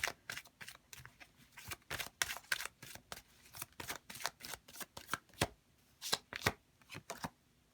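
A deck of oracle cards is shuffled by hand in a quick run of crisp, riffling card slaps and flicks, close and fairly quiet.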